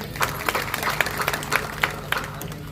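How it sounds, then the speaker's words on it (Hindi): Audience clapping at a Hindu religious discourse led by a saint, a steady patter of many hands with sharper individual claps standing out, moderately loud in a reverberant hall. "ताली बजा।"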